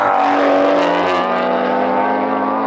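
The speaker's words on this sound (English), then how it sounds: "Early shift into second. Oh, great start." 500 bhp BMW M140i and 500 bhp MK7 Golf R launching in a drag race, a loud close engine roar with rising revs and a pitch drop at a gear shift, sustained and without talk.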